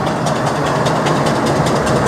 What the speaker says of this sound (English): it's definitely a steam engine